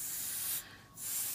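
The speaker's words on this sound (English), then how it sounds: "I'm again going to use the canned air. I'm going to use it pretty gently this time and push it." Canned air blows alcohol ink across a painting surface in a short, gentle hissing spray, dipping briefly mid-burst before resuming, close and soft with no talking.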